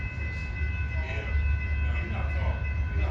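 An Amtrak Southwest Chief passenger train passes close by, a loud, heavy rail rumble with steady sustained horn tones layered over it.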